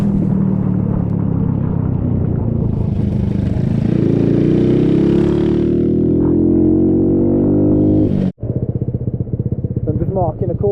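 Honda C90 motorcycle ridden through heavy storm rain on a greasy road, its small engine droning steadily and rising in pitch as it accelerates, with a brief sharp knock near the end.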